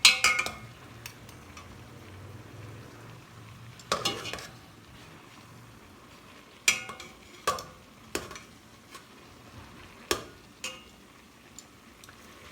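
Masala-stuffed bitter gourds (karela) fry in a pan beneath a soft steady sizzle, broken by several sharp clicks and knocks as the pieces are turned, up close with no speech.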